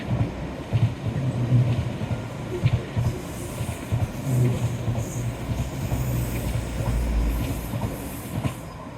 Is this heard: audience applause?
no